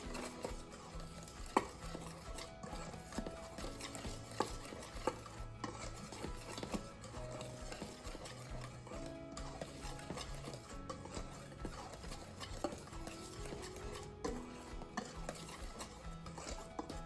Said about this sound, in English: I'm just going to use my whisk to blend these in